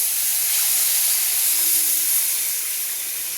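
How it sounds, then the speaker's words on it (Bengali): Water poured onto hot fried semolina for halwa puri sends up a loud, steady hiss of steam that fills the whole moment and fades only slightly toward the end. "তো এখন আমি জল দিয়ে দেব"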